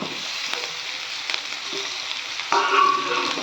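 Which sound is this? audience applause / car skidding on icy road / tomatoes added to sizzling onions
tomatoes added to sizzling onions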